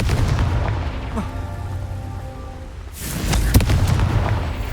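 Confringo blasting-spell explosions in Hogwarts Legacy: booming blasts, a small one early and a heavier burst at about three seconds followed by rumbling impacts, with no speech over them.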